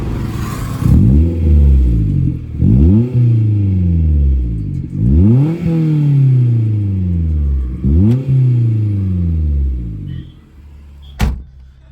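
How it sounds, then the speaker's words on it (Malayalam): A 2004 Maruti Suzuki Zen with a custom exhaust revs hard in five loud, rising bursts, each falling away before the next, followed by a short clatter near the end. "എക്സോസ്റ്റ് ശബ്ദം കേൾപ്പിച്ചു തരാം."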